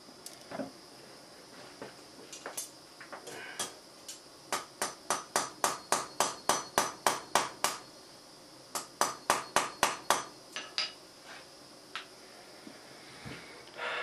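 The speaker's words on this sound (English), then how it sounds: "So I'm going to bend this and hammer it really quick" Rapid runs of metallic hammer blows on a hot metal truss-rod bar ring out in steady rhythmic bursts, pausing briefly between sets, with a few isolated strikes before and after.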